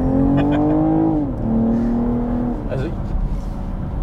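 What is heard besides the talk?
BMW M440i xDrive Gran Coupé engine revving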